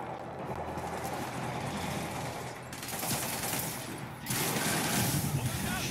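Sustained rapid gunfire from a battle against demons in Spider-Man Remastered, dense and continuous throughout with heavier bursts in the latter half, set amid loud game noise and effects.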